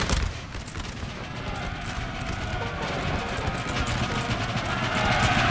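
Napoleonic-era artillery and massed musket fire in a Napoleon: Total War battle roll on as a steady, dense rumble of distant booms and crackling volleys, with no clear single shot standing out.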